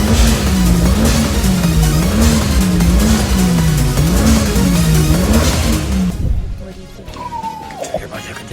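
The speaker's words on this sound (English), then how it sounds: "listen to that turbo!" A car engine revving loudly with a turbo, pitch wavering up and down in repeated surges for several seconds before cutting off, followed by quieter sounds and a brief high whistle.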